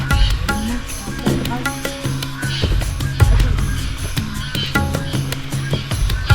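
Raucous birds calling repeatedly on a hiking trail up Bukit Kaba, with harsh cawing and squawking layered over busy outdoor noise and rustling, fairly loud and continuous.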